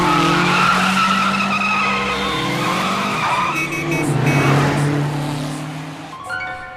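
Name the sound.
car skidding and driving away in an anime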